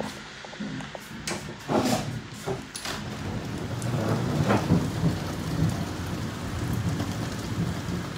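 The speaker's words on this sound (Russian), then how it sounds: "Гром гремит, давайте покажу вам." Heavy rain pours steadily while rumbling thunder rolls in the foreground, with a few sharper bursts early on before settling into a continuous downpour.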